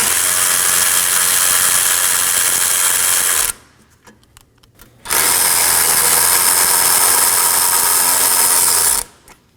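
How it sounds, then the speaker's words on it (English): A ratchet spins out two 10mm bolts on a 2018-2024 Chevrolet Equinox 1.5L engine cooling fan assembly, giving two long, loud, steady buzzing runs separated by a brief quiet pause with small clicks. "Now we can remove our two 10mm bolts."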